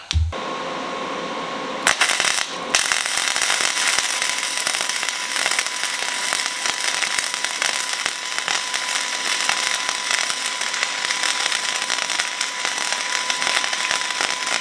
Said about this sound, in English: Flip her over and weld it from the other side.